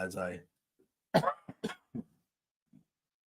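A podcast host with the sniffles lets out a short burst of several dry coughs and throat-clearing in quick succession, close to the mic, right after a brief bit of talk.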